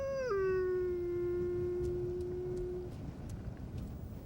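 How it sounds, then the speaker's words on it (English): A single wolf's howl, steady and loud, rising briefly then holding a long even tone for nearly three seconds before fading, with faint background noise afterward. "The howl. How many times have we imagined that sound?"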